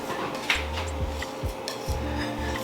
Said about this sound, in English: Okay, whisk it.